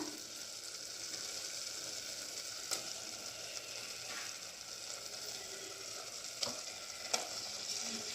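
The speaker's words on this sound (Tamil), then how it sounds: "இப்போ நம்ம இந்த ஸ்டேஜில் முட்டை போட்டுடலாம்." Eggs go into a simmering egg gravy where the oil has separated, giving a faint, even bubbling sizzle with a few brief clinks of a utensil against the pot.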